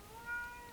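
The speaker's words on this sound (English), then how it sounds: "I hope you can hear him meowing." A pet cat named Kintaro gives a single short, faint meow indoors, alone with no talk over it.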